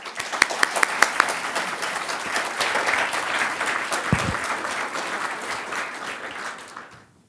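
An audience at a Duke Sanford Institute talk applauds to welcome Ambassador Peter Galbraith, sustained dense clapping from a roomful of people that holds steady and then fades out.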